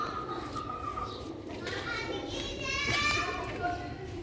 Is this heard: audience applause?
no